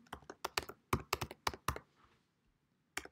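Quick bursts of keystrokes clatter on a computer keyboard, about a dozen close, crisp taps in a rapid run, a short pause, then one final key press.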